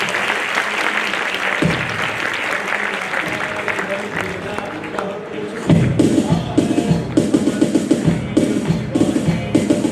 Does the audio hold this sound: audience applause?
yes